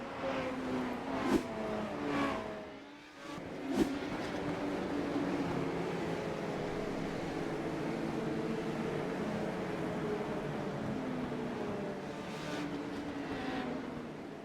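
Legends race cars racing on the Thompson track, a sustained roar of several engines with rising and falling pitch as cars pass and accelerate, loud and continuous.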